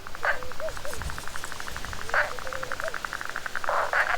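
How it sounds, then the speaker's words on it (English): Common river frog calling by water, a rapid train of short pulsed croaks repeating steadily with louder bursts recurring every couple of seconds, moderately close over a noisy background. "the common river frog."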